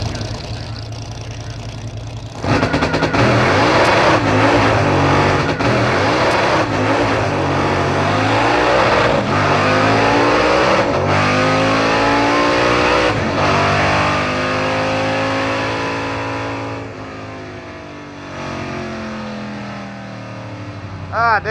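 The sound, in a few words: 1955 Chevy Blasphemi drag car launching down the strip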